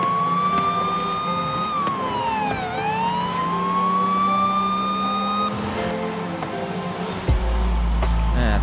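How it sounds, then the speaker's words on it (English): Wailing emergency siren on a vehicle in Forza Horizon 5 rises and falls loudly over engine drone, close by, then cuts off near the end as car noise takes over. "I wish this guy would turn his siren off."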